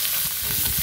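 Garlic frying in a pan over a wood-fired stove, a steady close sizzle and crackle of hot oil that stays even throughout the brief moment, with no voices.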